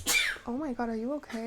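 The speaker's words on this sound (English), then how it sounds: "I've been sneezing all day." A single sharp sneeze bursts out at the start, close and loud, followed right away by a concerned voice speaking.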